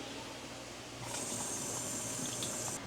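An avocado is rinsed under a kitchen tap. Running water starts about a second in and keeps up a steady, close splashing rush until it cuts off near the end.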